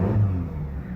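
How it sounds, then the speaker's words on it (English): A car engine, freshly repaired after a cylinder-one misfire, idles evenly and smoothly close by for a brief moment, a low steady hum with no stumble. "The engine runs great now."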